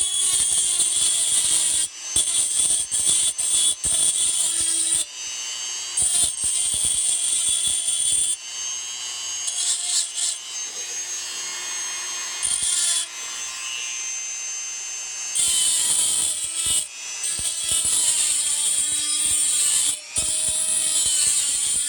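A hand file or deburring tool scraping sharp edges off a metal DIY survival fire starter striker, repeated rasping strokes in bursts with short pauses, close and fairly loud.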